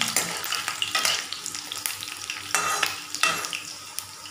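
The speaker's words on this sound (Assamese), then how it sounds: "ইয়াত মই থেতেলাই থোৱা নহৰু 4 ফুটা এতিয়া তেলতে দি দিছোঁ" Oil sizzles and crackles steadily as crushed garlic fries in a pan, with a few louder bursts of spattering and occasional scraping of a utensil.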